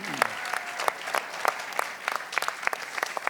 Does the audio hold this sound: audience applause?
yes